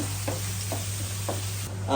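Onion and tomato frying in a pan for Malabar-style prawn curry give a steady, low sizzle under a constant hum, broken by a few soft scraping stirs and a brighter crackle at the end.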